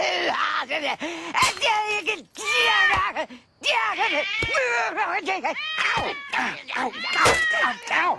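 Harmonic cat meows with rising and falling wails, several in a row with brief gaps, loud and close, some sounding like drawn-out yowls.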